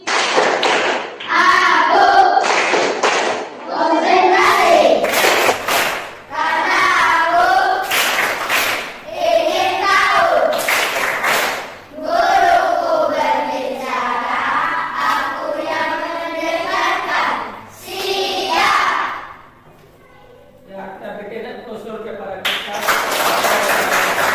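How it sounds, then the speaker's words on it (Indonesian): A classroom group does a rhythmic concentration-clapping ice-breaker, voices chanting in unison between loud, patterned claps and thumps that keep going with brief pauses. "Ice breaking ini yaitu kita melakukan tepuk tangan konsentrasi."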